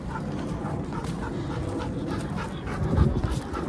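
Young dogs pant heavily after running in a field, rapid rhythmic breathing close to the microphone, steady throughout with a faint whimper near the end and no talking.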